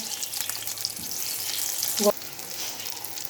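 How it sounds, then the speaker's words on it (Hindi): Seekh kebabs frying over low heat, a soft continuous hiss of oil with a brief clunk of a utensil midway, steady and close with no talking. "इसी तरह आपने हल्की आंच पर फ्राई करने हैं।"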